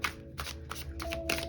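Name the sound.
tarot cards being shuffled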